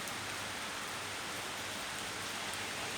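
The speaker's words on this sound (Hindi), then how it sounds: "रेन हो रही है।" Rain falls steadily over a scene in Germany, a constant, even hiss of drops with no voices and no distinct individual impacts.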